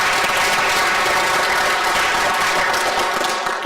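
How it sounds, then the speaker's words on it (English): Conference audience applauding a panel at the close of a talk: dense, steady clapping that fills the room, loud and continuous, with no voices over it. "Can we get one more round of applause for them?"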